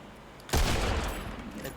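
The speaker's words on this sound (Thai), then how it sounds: "เขากำลังยิงกันครับเขากำลังยิงกัน" Video game gunfire breaking out suddenly after a quiet moment, a rolling burst of shots that continues as a dense, reverberant rumble.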